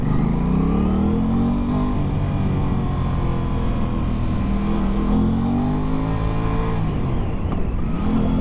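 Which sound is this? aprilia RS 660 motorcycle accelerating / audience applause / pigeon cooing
aprilia RS 660 motorcycle accelerating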